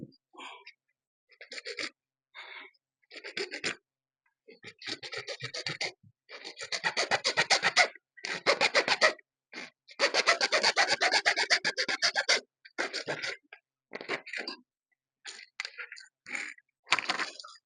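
Hand sawing of a small piece for a recirculating aquaculture fish-farming setup, a rasping stroke-by-stroke rhythm in irregular bursts with short pauses, close and fairly loud, with no talk over it.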